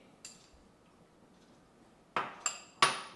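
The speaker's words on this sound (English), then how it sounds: "4 whole eggs going in" Whole eggs cracked against a flat bowl make sharp, close clinks: one early tap, then three quick cracks in the last second, each with a short bright ring, in an otherwise quiet room.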